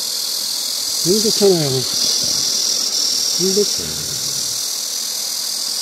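Cicadas singing at the end of summer on a mountain trail in Yeongdong, Chungbuk, a steady high-pitched buzzing drone throughout while a person talks briefly over it.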